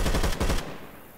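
A short loud burst of automatic gunfire in Left 4 Dead 2, a few fast close shots ending in a quick decaying tail.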